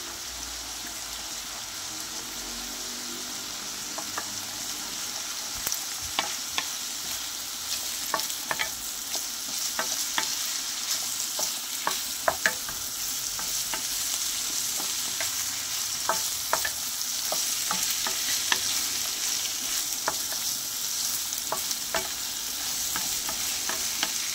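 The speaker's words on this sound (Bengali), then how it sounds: "একদম ভাজা ভাজা করে নেব।" Beaten eggs fry with snake gourd in a village-style pan, a continuous soft sizzle under many quick, crisp taps and scrapes of a spatula stirring close by, with no talking.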